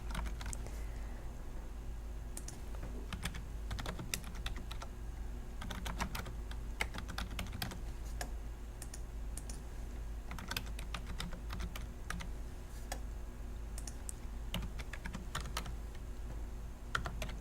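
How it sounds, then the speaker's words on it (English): Someone types an address on a computer keyboard in quick, uneven bursts of light clicking keystrokes over a low steady hum. "And I'm going to type in an address."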